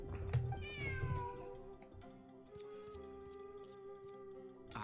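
Cat meowing in the Genshin Impact fantasy game, one drawn-out rising meow near the start followed by softer, quieter mews over faint ambient game music and small clicks.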